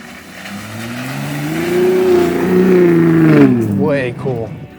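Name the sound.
Steeda Ford F-150 Raptor engine driving forward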